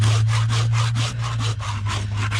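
A farrier's rasp drawn across a mare's hoof during a trim, making loud, close, steady back-and-forth scraping strokes, about four per second, with no voices.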